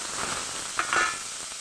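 Steady sizzling of ground spice paste and bay leaves frying in hot oil in a wok, with a couple of brief scrapes from a stirring spoon near the middle.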